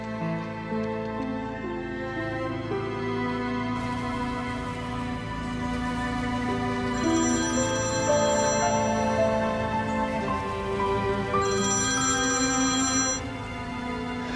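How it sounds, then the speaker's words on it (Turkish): While a call is placed to someone, a telephone rings repeatedly in a steady electronic ringtone pattern, accompanied by a musical underscore from a Turkish drama, with no talking heard. "Ben bir Güney'i arayayım o zaman"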